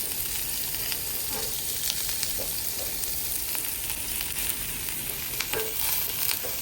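Onion fries on low heat in a pan for shrimp bharta, giving a steady, close, continuous hiss with faint crackles and no talking throughout.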